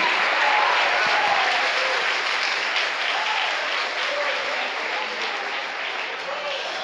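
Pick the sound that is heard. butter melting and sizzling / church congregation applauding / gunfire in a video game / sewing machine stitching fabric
church congregation applauding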